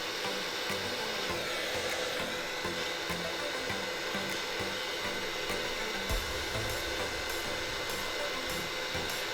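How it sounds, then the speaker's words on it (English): Steady high-heat gun blowing a continuous airy whir while warming the screen of a Garmin Vivoactive HR smartwatch, with faint tapping underneath and no talking. "Since this heat gun is intended for very high heat, don't go very close to the screen,"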